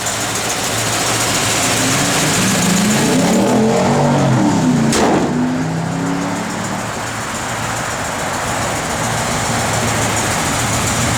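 A 1956 Chevrolet 210's cammed V8 engine idles loudly and steadily nearby with a lumpy, throbbing rhythm, while a brief whoosh passes partway through.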